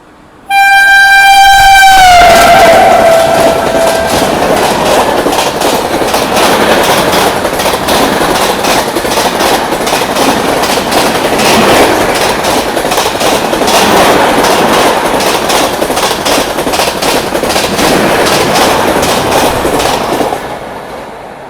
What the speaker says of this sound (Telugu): India's longest train Kanyakumari Dibrugarh Vivek super fast flat 130లో వస్తుందండి.